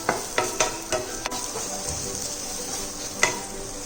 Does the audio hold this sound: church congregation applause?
no